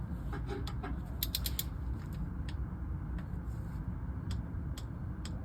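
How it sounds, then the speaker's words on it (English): A torque wrench set to 8 foot-pounds works on a bolt of a Toyota Tundra, giving a run of small, sharp ratcheting clicks over a low steady background hum. "You heard that click, that's 8 foot-pounds."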